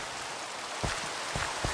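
Steady hiss of rain in the game Nightfall Craft, with a few muffled low thumps of game action through it.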